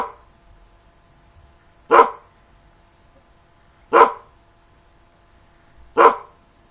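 Puppy barking sound effect in a Scratch animation: three short, loud single barks spaced about two seconds apart against near silence.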